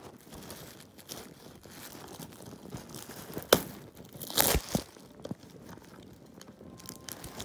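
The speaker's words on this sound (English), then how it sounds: "I used the scissors to cut this plastic over here." Plastic shrink-wrap being cut with scissors and torn off video game cases, with quiet crinkling and rustling throughout and a few sharper tearing bursts partway through, close and fairly soft.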